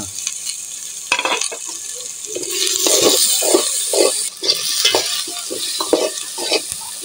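Chopped onions with cinnamon, bay leaves, cardamom and garam masala fry in hot oil for a spicy beef curry, a steady close sizzle broken by repeated scraping and stirring of the pan.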